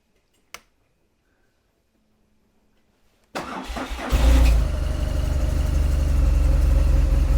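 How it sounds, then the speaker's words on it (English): After a sharp click and a quiet pause, a rebuilt BMW 1200 GS motorcycle engine cranks, catches and settles into a loud, steady running rumble close by. "That's running, but that's running on the fuel that was still in the bike."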